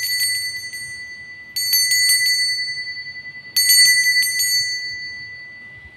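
A small bright bell rings to open a fortune reading, struck in three separate bursts of quick repeated chimes, each ringing out and decaying in an otherwise quiet room.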